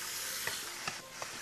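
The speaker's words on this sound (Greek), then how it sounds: "Σοτάρουμε λοιπόν από όλες τις πλευρές, Φέι" Chicken drumsticks sautéing in a pot, a soft, steady sizzle with a few brief louder crackles or stirring clicks at intervals.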